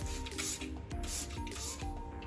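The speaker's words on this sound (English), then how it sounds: "So I like to go ahead and spray the top with alcohol" Rapid bursts of hissing spray as rubbing alcohol is misted from a spray bottle onto the top of a bulk mushroom substrate, four or five quick close squirts in a row.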